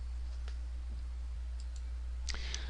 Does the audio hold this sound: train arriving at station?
no